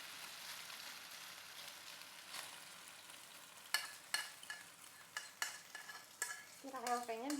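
A noodle omelet fries quietly in a pan, a faint, even sizzle at first. Later come sharper clicks and scrapes of a utensil, and a brief voice-like tone rises at the end.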